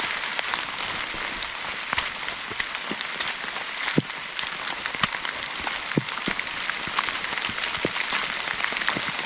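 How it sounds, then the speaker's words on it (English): Heavy rain falls steadily on a forest hiking trail during flooding, a dense continuous patter with occasional louder drips striking close by. "I love the rain."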